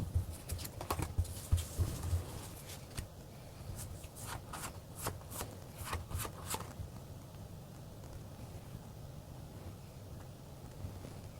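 Tarot cards shuffled and drawn by hand at close range, quick bursts of papery riffling and flicks in the first half, then quieter handling and soft rustle.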